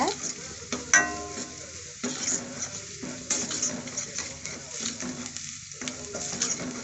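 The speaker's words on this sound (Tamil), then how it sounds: "இஞ்சி பூண்டு போடையும் வெங்காயமும் நல்லா வதங்குது" Ginger, garlic and onion fry in a pan with a steady sizzle, broken by several scraping stirs and a few light clinks of a utensil against the pan.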